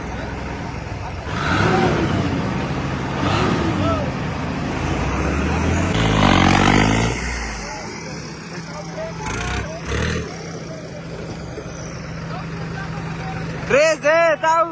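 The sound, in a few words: road roller engine revving while towing bulldozer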